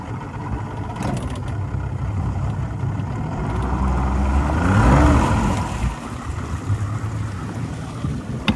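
Boston Whaler outboard engine reversing away from a floating plastic dock on open water, a steady low motor rumble that swells in the middle with churning prop wash, wind and light water noise around it.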